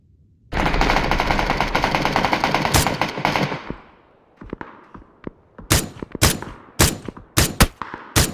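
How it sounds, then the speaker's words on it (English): Gunfire in the video game PUBG: a long sustained burst of automatic fire from an enemy squad, then a series of sharp, loud separate shots at uneven intervals, no talk. "We're taking a bunch of shots here from these guys"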